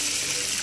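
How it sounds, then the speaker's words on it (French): Water poured into a pot with caramelized onions for cooking rice, a loud close hissing gush with a sizzling edge, steady throughout. "J'ajoute ensuite mon eau"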